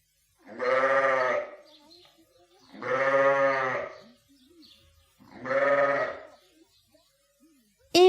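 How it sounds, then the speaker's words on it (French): A sheep bleats three times in slow succession, each call long and wavering, with short pauses between and a brief sharp sound at the very end. "Le mouton."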